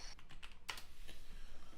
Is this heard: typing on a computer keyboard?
yes